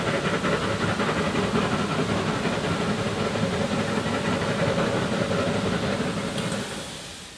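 Cass Scenic Railroad steam locomotive Engine 11 hisses steadily at rest while its train is readied, a loud continuous rush of steam over a low idling rumble that eases slightly near the end.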